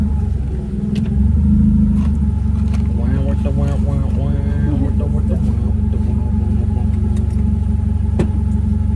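A car engine idles steadily with a deep low rumble throughout, a short surge near the start, while people talk over it.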